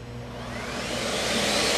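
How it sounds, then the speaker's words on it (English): A Miele S7 upright vacuum cleaner whirs up to full power, a broad steady roar growing louder over two seconds, with no talking. "Turn the vacuum on"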